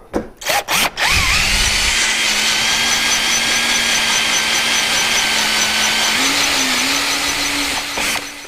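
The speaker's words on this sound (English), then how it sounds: "So drilling these two front bolts out, that one and that one," A 5/16 drill bit boring out Loctited front bolts held in vice grips on a Can-Am Outlander, a few short bursts then a loud, sustained whining drill run with a slight pitch rise near the end.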